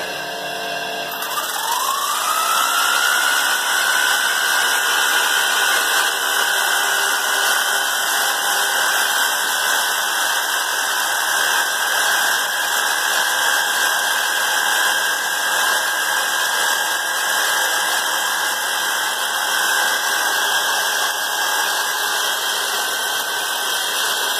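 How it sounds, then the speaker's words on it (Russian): An electric jigsaw spins up about two seconds in and then holds a steady, loud, high motor whine for the rest of the stretch, with no talk over it. "Сейчас попробуем лобзик запустить"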